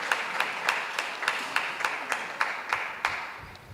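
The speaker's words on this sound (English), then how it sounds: "Give them a round of applause." Scattered clapping from a small audience at a Dominica Council on Ageing annual general meeting, honoring two doctors; a steady patter with sharp individual claps recurring about every third of a second, fairly faint and tapering off.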